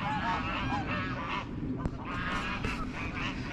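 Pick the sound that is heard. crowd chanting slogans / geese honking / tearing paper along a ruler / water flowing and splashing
geese honking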